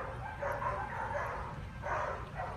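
Several dogs barking in the background during outdoor obedience training, a few yips and barks rising in two loose bursts, moderately distant and fairly faint, with a voice faint or absent.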